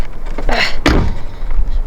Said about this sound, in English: Trying to shut my door.